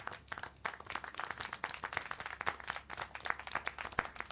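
Faint applause from a small group in the video game Syberia: The World Before, dense and uneven clapping with no voices, heard quietly in the background.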